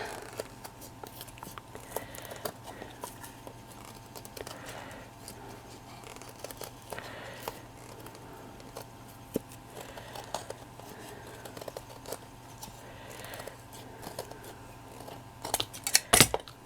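Scissors cutting through material at close range: scattered small snips and crisp rustles over a faint steady hum, growing sharper and louder near the end.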